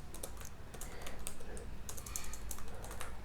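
Code being typed on a computer keyboard, quick irregular bursts of key clicks close by and fairly quiet, with no talking.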